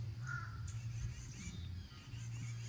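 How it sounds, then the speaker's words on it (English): A crow caws outdoors on Cape Cod on a clear day, a few harsh calls at moderate distance over a steady low background hum, with no talking. "Crow."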